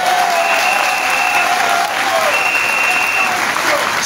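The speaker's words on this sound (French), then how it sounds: "applaudissons-le" A large audience at a political gathering in Gabon applauds loudly and evenly for about four seconds, a dense wall of clapping with a faint high whistling tone riding above it.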